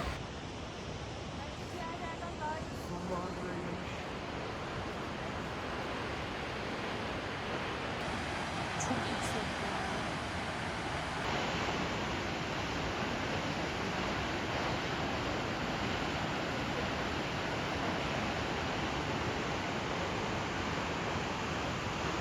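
Kegon Falls, a 97-metre waterfall in Japan, roars as a continuous broadband rush that holds steady throughout, heard from a misty viewpoint with some wind buffeting the microphone.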